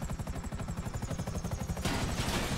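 A GTA Online helicopter's rotor thumps in a fast, steady pulse, loud and close, before a sudden burst of broadband noise takes over the last stretch.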